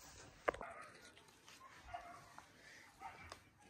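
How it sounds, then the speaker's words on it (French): Several short, faint dog barks ring out at a distance, scattered irregularly over steady outdoor background noise. "Je pense que vous entendez déjà les chiens dehors aboyer."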